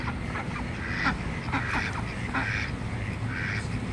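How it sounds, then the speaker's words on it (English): A duck quacks repeatedly at a pond during feeding, a series of short nasal calls in uneven bursts over steady low outdoor rumble, with no talk. "The quack quack."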